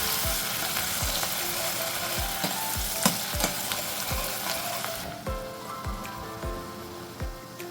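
Onions sautéing in hot oil for a masoor dal and potato curry, with a steady crackling sizzle and regular stirring knocks of a spoon against the pan, close up.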